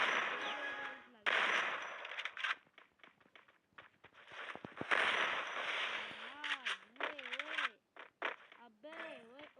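Gunfire in the Free Fire video game: bursts of rapid automatic shots and single cracks come and go across the clip, fairly close and loud, with excited talk from the player over and between the shots.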